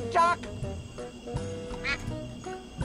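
A duck in the video game Escape from Monkey Island quacks loudly twice amid game music and sound effects, close and prominent.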